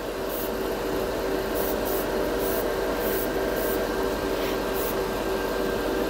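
Metallic MODO paint being sprayed onto an old Gundam model kit piece, a steady continuous airy hiss running unbroken at close range, with brief bursts layered over it and no talking.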